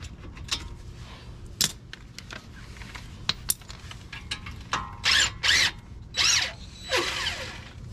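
A power tool loosens 11 mm Allen brake bolts on a 2017 Land Rover Discovery in a series of short whirring bursts, with metallic clicks and clinks from the tools between them.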